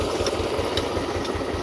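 Motors on a tractor run steadily close by, a loud continuous low rumble with a faint rhythmic throb and no voices.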